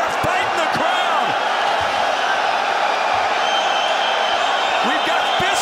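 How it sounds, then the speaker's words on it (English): Crowd commotion erupts as a fight breaks out among spectators at a kickboxing event between Rico Verhoeven and Badr Hari, a dense, loud roar of shouting and cheering filling the arena with scattered thumps. "We got a fight in the crowd."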